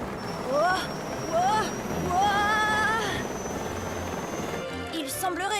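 A steady helicopter rotor drone runs throughout, with a voice talking over it and a brief rustling burst near the end.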